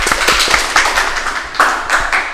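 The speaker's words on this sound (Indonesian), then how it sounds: "Tepuk tangan dulu." A few people clap briefly in a studio talk-show setting, a quick scattered burst of hand claps that fades and picks up again.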